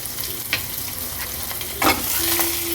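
A tempering of cumin, mustard seeds, green chillies, curry leaves and crushed ginger-garlic sizzling in oil, a steady close crackle with a few louder stirring scrapes and a brief whine near the end.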